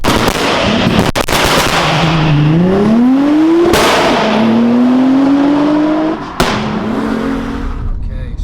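A tuned 500bhp Audi A4 quattro revs and accelerates hard after a clutch kick, engine pitch climbing in loud sweeping pulls with sharp bangs and pops between gear changes, close and continuous.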